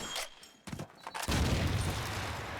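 Gunfire and a frag grenade blast in Call of Duty 2 on the Dawnville map, with scattered shots giving way to a loud, sustained boom and rolling crackle of battle.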